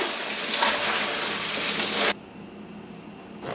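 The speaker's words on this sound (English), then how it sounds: "So I rinse these in cold water." Frozen vegetables are rinsed under a cold kitchen tap; a loud, steady rush of running water fills the first two seconds, then cuts off abruptly, leaving quiet.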